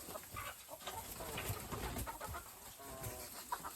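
Chickens excited over an apple core, clucking and cooing softly around the coop, quiet and close with scattered short calls over low background noise.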